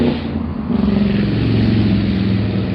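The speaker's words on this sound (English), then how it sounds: "Loud motorcycle." A loud engine roars close by, building into a steady, throaty drone as the motorcycle goes past.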